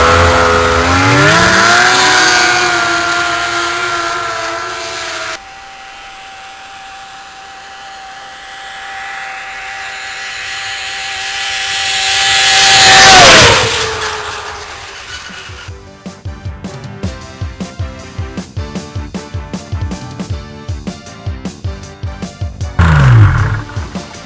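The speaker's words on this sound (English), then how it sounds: "I'm going to do a flyby on the 650." A 1991 Polaris Indy 650 snowmobile at about 90 mph on heavy snow, its two-stroke engine screaming as it approaches, sweeps loudly past with a falling pitch, then fades, followed by a sharp rapid crackling burble.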